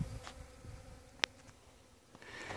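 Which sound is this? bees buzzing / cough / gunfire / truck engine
bees buzzing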